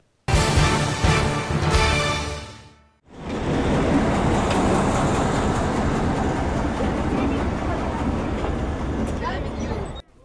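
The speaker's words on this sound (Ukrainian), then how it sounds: "Вузькоколійна залізниця або кукушка головна візитівка рівненського полісся" A narrow-gauge railway train in Rivne Polissia roars past close and loud: a short burst, a brief dip, then a sustained rumbling, clattering run of about seven seconds.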